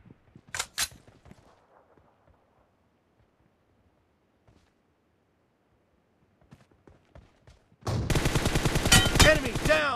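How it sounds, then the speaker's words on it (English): Gunfire in the PUBG Mobile shooter game: a short burst of shots early, scattered faint pops, then a loud sustained rapid automatic volley at the end. "Shot."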